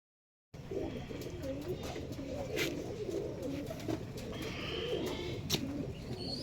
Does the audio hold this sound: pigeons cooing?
yes